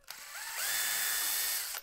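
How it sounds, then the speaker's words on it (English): Power drill with a 3/32 inch bit boring a pilot hole in a cabinet door for a cup hook: a short whine that ramps up, holds steady for about a second, then stops. "now I'm going to just take and drill my two pilot holes in here for my cup hooks."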